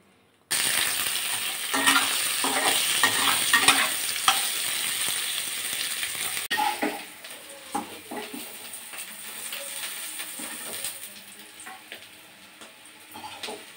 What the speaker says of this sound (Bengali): এখানে আলু, মূলো আর ফুলকপি আছে কিছু, এগুলোকেই কিন্তু ভেজে নেব